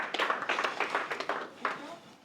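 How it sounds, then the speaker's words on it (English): A small audience at a Brisbane AWS user group meetup gives a presenter a short round of applause, a thin, scattered run of distinct hand claps at low volume that fades out within a couple of seconds. "Can I get a round of applause for Joel presenting?"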